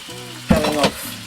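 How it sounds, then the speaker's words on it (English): Chicken pieces sizzling in a hot frying pan for fajitas, a steady hiss with a louder burst of crackle and stirring midway, close and clear, no talking. "And you can hear it gently sizzling."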